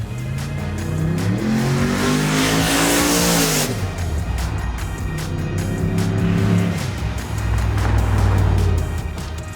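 A 1964 Suburban's engine revs hard to high RPM, a loud sustained roar that climbs in pitch, drops off, then builds again with rising and falling throttle.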